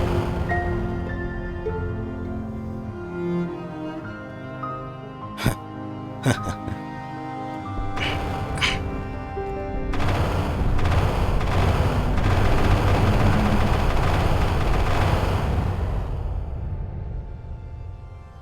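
A Tsar bomb goes off in the sandbox game Worldbox, a few sharp cracks giving way to a long, loud rumbling roar under game music.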